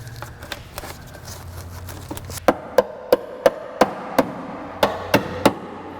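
A hammer strikes metal on a 1998 Chrysler Town & Country during transmission and radiator work, about nine sharp, evenly spaced blows close by, preceded by lighter taps and rustling.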